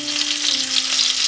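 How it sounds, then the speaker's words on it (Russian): Soy-based mock fish fries in a pan with a loud, constant close-up sizzle and crackle, with a faint steady hum beneath. "Соевую рыбу жариваю с одной стороны и переворачиваю на другую."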